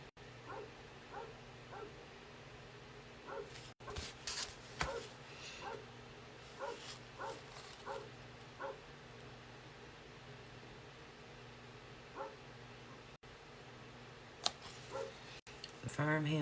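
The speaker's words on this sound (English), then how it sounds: "So it's going to be a bark fest today." Dogs barking on a busy farm, several short yips and barks repeating at a moderate distance over a steady low hum, with a few louder barks near the end.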